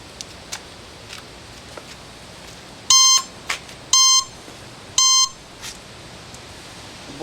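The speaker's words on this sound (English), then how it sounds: "The blinkers and all the alarm stuff still works." The alarm on a 1972 Honda CB750 K2 parts bike gives three sharp electronic beeps about a second apart, loud and close, with faint clicks in between.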